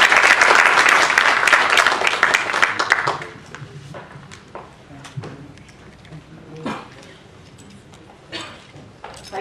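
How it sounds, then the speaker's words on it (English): Audience applause closing a panel discussion session, a burst of clapping for about three seconds that quickly dies away, leaving quiet room noise with a few scattered claps and faint shuffling. "let us have a round of applause for Jayal"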